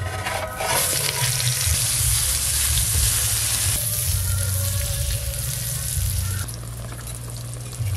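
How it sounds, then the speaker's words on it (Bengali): Eggplant slices sizzle and spit steadily in hot oil in a pan, a close, continuous frying hiss with faint stirring clatter, no talk. "আর 4 পিস আছে, এগুলো ভাজলেই সব ভাজা হয়ে যাবে বেগুন"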